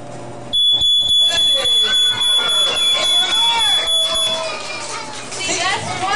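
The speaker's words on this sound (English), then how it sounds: "check your smoke detector one time a month and change your batteries two times a year" A shrill smoke alarm beeps rapidly and continuously for several seconds, loud and close, while children's voices chatter and shout underneath.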